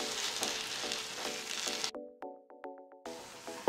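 Prawns roasting in a pan for a seafood starter, a steady close sizzle and crackle that breaks off partway, leaving a few sharp clinks and short tonal taps before the frying noise returns.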